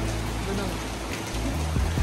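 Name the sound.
heavy monsoon rain falling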